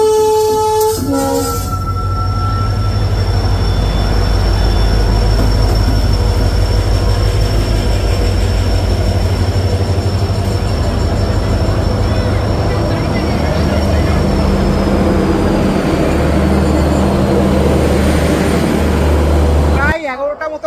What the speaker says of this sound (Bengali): হাওড়া পুরী সুপারফাস্ট এক্সপ্রেস এখন কিন্তু ঢুকছে তেইশ নম্বর প্ল্যাটফর্মে